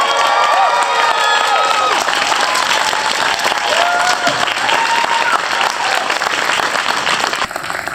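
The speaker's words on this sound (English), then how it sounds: "please put your hands together for the one, the only, Dennis Lawson!" Loud, sustained applause and cheering from a studio audience welcoming Dennis Lawson as he is introduced, with whoops and shouts layered over dense clapping for the full duration.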